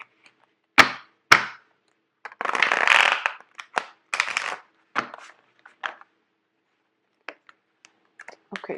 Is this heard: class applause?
no